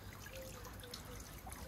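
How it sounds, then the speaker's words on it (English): Water from a solar-powered pond pump trickles in a steady, soft stream, close by and fairly quiet, with a low background hum and no voices over it. "that's just free water movement from a solar panel"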